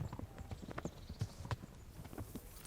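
Horse hooves clip-clop in a steady rhythm in Kingdom Come: Deliverance, with a faint whinny, heard fairly close throughout.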